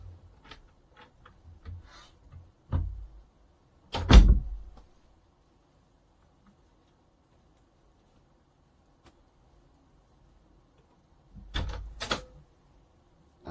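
An old plastic card pushes back the latch of a locked interior room door, giving a few sharp clicks and clunks spaced apart by quiet, with one louder snap near the middle.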